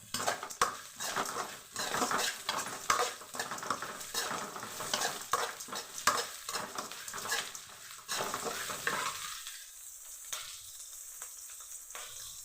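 Green and red chillies sauté over high heat for a beans poriyal, with steady sizzling, repeated spatula scrapes and stirring clatter against the pan before the frying quiets near the end.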